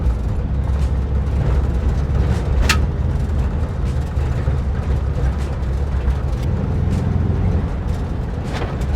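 A VW bus climbs a rain-soaked campground trail in third gear, its engine a loud, continuous low rumble with rattling and road noise that stays steady from start to finish.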